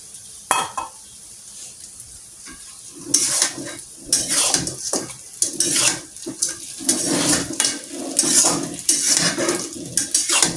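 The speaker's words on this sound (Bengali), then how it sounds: "সুন্দর করে নেড়ে নেড়ে চাউমিনের মধ্যে ভেজে নেব চিকেনগুলো" Chicken chow mein stir-fried over high heat in a pan, with loud repeated clanks and scrapes of the utensil against the metal over a continuous sizzle.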